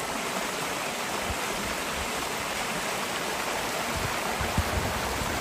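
Small waterfall on a mountain trail in a northern wilderness stretch, a steady broadband rush of falling water that holds constant and fairly close throughout, with no voices.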